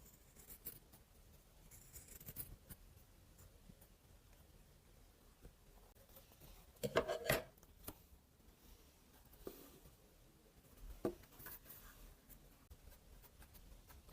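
Paper being cut for a junk journal cover, with faint, quiet snips and rustles and a couple of brief louder scrapes and crinkles in a hushed room.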